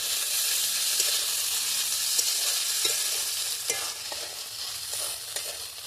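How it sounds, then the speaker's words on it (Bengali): Onion and ginger paste fries in a pan for a village-style papaya chicken curry, giving a steady, loud sizzle with occasional scraping stirs and no voices. "আদাটা একটু ভালো করে ভেজে নিই"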